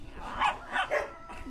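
Dogs barking from behind a locked door, a few muffled, mid-level barks in a short burst with faint background noise.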